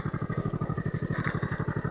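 A motorcycle engine putters in a fast, even chugging rhythm while riding along an overgrown rural path, close and steady throughout with no voices.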